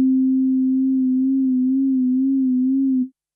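A KORG opsix FM synthesizer plays a steady sine tone, close and clean, that gains a gentle vibrato wobble as a second operator modulates its pitch, holding for about three seconds before cutting off.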